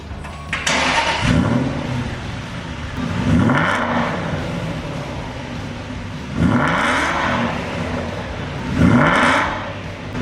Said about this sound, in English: let's start it up now, give it a rev and see how it sounds